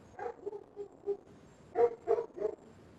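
A neighbor's dog barks indoors-distant at night: a few soft, muffled woofs followed by a tighter burst of three louder barks, heard faintly with no talking.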